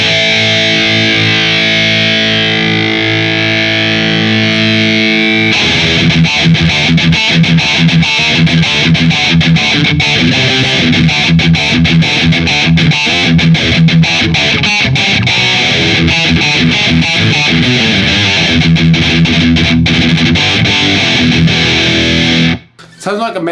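Electric guitar through the distortion setting of a Zoom 505II multi-effects pedal, sustained chords giving way to heavy, gritty riffing with crunchy palm-muted chugs, loud and continuous.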